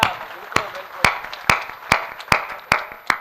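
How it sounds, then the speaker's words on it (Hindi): Audience at a Hindi comic poetry gathering (hasya kavi sammelan) in Mahsi, Bahraich, clapping in short rhythmic bursts, about eight sharp claps evenly spaced, close and fairly loud over a low murmur. "आपने तालियां बजा दी हैं"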